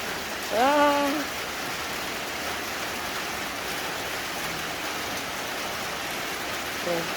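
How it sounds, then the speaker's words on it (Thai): Steady rain falls in a dense, even hiss throughout near a cattle pen behind a house, with a brief voice-like call near the start and a faint sound near the end. "ฝนตก"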